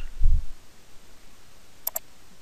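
Computer mouse click in PSpice software, two quick, faint, crisp clicks in close succession near the middle, preceded by a low thump, with otherwise quiet background.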